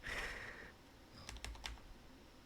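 Someone types on a new computer keyboard with no arrow keys, a short burst of several quiet, quick keystrokes close by after a brief tone, with no talking.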